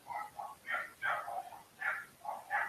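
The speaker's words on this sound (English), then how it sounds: "Excuse my dogs, people, if you can hear them back in the background." Several faint barks and yips from dogs in the distance come in quick irregular bursts, muffled and somewhat far away.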